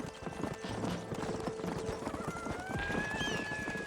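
A horse gallops in Red Dead Redemption, its rapid, close clip-clop of hooves running steadily throughout. A whinny rings out near the end, and background game music plays underneath.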